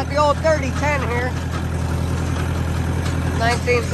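An old 3010 tractor with a 1963 engine idles close by with a steady, low, throbbing drone, while someone talks over it near the start and again near the end.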